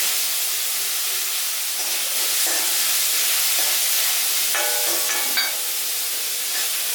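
Ginger, garlic and cumin sautéing in a pan for a water chestnut curry, a steady broad sizzle and hiss throughout with a few brief clinks and scrapes of stirring, close and moderately loud, no talking.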